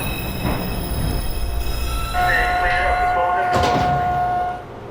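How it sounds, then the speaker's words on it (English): A Manhattan-bound 5 express subway train rumbles into a station, its wheels squealing in a sustained high tone as it slows, with talk over the steady roar. "This is a Manhattan-bound 5 express train."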